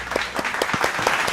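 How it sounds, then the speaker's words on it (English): An audience claps briefly, giving a short burst of dense, close applause that lasts only a moment. "Can I clap for him one more time?"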